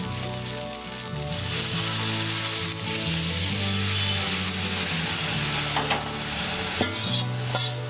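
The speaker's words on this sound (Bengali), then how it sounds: "ডালটা ঢেলে দেবো।" Mung bean vegetable dal poured into a hot pan, a loud, steady sizzle and bubbling fry with scraping stir sounds throughout, close and continuous, no voices.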